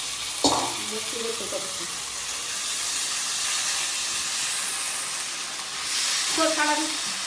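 Vegetables roasting in a hot pan for a Kolhapuri-style Marathi bhaji, producing a continuous broad sizzle and hiss with a couple of brief utensil clinks near the start and end.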